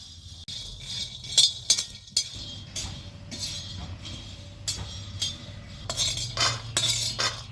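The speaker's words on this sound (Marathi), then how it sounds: "थोडंसं शेंगदाणं तव्यात भाजून घ्यायचं." Peanuts are roasted on a hot tava for a spice paste, with repeated metallic scrapes and clinks of a spatula on the pan coming close and irregular over a low background hum.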